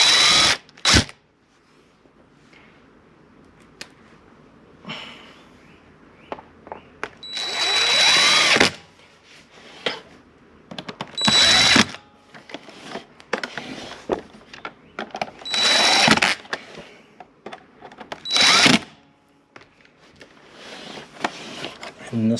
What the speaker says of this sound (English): So now just put back your Phillips head screws.